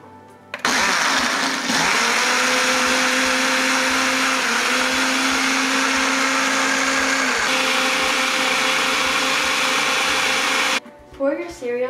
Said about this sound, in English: Put the cap on your cup and begin to blend.